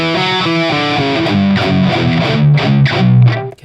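Distorted electric guitar plays a riff, with chugging palm-muted power chords and quick descending notes, loud and close with no talking.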